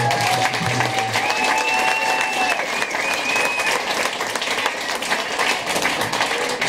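Warm audience applause at an Alan Doyle Trio kitchen party at Yellowbelly Brewery in St. John's, Newfoundland, a dense sustained wash of clapping with a few whoops and whistles rising over it.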